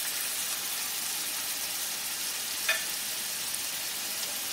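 Chopped tomato with ground cumin, coriander, chilli and Kashmiri red chilli powder frying in a pan, a constant bright hiss of sizzling with one small clink partway through.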